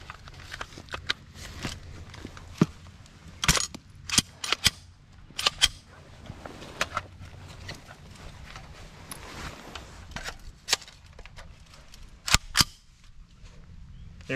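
A BCL Siberian SRV2 rifle fires dirty rounds in a series of sharp, irregularly spaced reports with clicks of handling in between.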